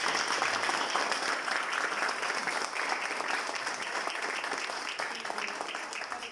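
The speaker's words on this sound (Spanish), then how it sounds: "Les pido un aplauso una vez más." Sustained audience applause at a religious book presentation, dense steady clapping from a crowd that fades slightly toward the end, with no voices standing out.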